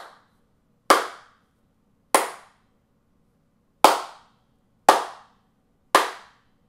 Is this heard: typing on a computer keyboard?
no